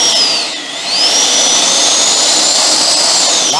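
FMS J-10 64mm electric ducted fan RC jet running in reverse thrust, a loud steady high-pitched whine that dips briefly then climbs back and holds.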